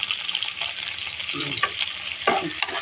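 Okra bhaji fries in a pan with tomato and green chilli, a loud, close sizzle and bubbling crackle with repeated stirring scrapes of a spatula against the pan.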